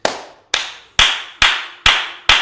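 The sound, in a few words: audience applause for Jane Boyd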